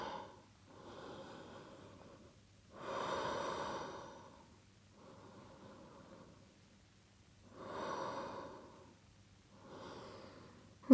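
Slow, deep breaths taken while holding yoga plough pose, with toes behind the head: several long, audible inhale and exhale cycles repeating steadily and heard up close, with no talking.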